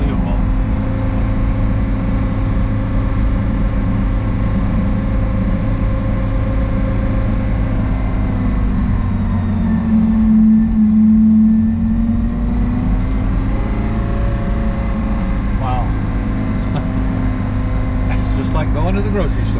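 A cold Porsche Carrera GT engine idles with a steady, loud low hum and harmonic drone, easing slightly in the middle before settling back, while people talk over it.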